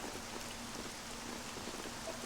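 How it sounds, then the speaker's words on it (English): Steady rain falling in the Dragon Quest 7 video game, a continuous even wash of drops spattering on surfaces, moderately quiet and unbroken throughout with no talk. "this is just regular rain, dang it"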